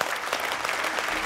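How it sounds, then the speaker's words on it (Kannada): A studio audience on a television game show applauds a contestant, a brisk burst of many hands clapping, close and full, holding steady for the whole moment. "ಚಪ್ಪಾಳೆ ಶ್ವೇತಾ ಅವ್ರಿಗೆ"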